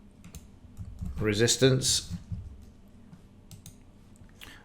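Computer keys click and tap in quick scattered bursts, close and fairly quiet, while someone briefly talks over the typing.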